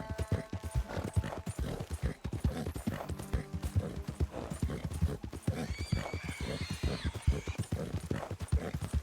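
In the video game Red Dead Redemption 2, rapid hoofbeats clop steadily in a galloping rhythm, with a horse's whinny rising briefly partway through.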